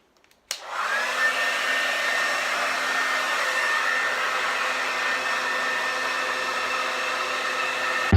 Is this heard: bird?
no